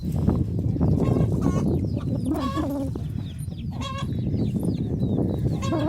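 Chickens cluck and squawk in short bursts around a farmyard, several birds close by over a constant low rumble of background noise.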